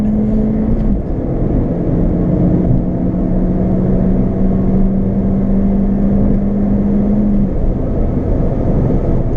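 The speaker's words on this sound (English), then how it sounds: "So not much cabin noise. You don't really get much of a roar from the engine though." Steady engine drone and road rumble inside a moving sports car, a Porsche Boxster S 986 or Fiesta ST MP215, fairly quiet and even throughout with a low sustained tone and no talking.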